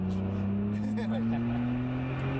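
A Nissan Skyline R34 GT-R engine revs hard and climbs steadily in pitch as it accelerates in third gear, loud and close, with voices faintly underneath.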